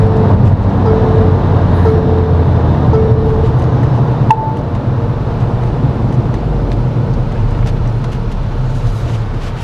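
Steady engine drone and road noise inside a 2025 Tata Harrier Stealth Edition diesel automatic on the move, with a brief soft shift change partway through and no talking.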